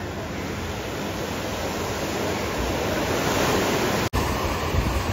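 Sea water surging against a seawall during heavy monsoon rain at high tide, a continuous loud broadband wash with a brief dropout near the end.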